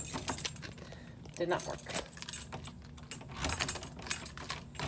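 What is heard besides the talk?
keys jangling while trying them in a lock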